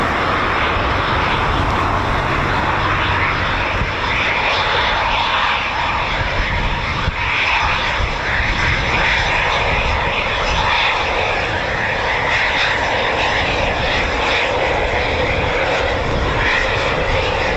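Eurofighter Typhoon FGR4 jet at an RAF air station gives a loud, steady, broad roar that holds for the whole stretch without breaks.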